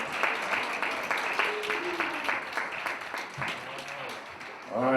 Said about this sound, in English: Can we just clap our hands one more time for all the mothers